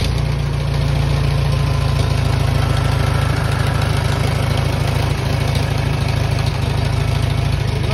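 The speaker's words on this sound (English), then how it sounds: "We'll see a cold start, Sam. You want to see a cold start? Yeah. All right, cold start." A small engine runs steadily after a cold start without choke, with a loud, continuous low idle and a slightly uneven, knocking rhythm throughout.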